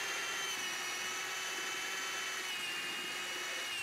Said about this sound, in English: start drilling the larger holes to take care of the jigsaw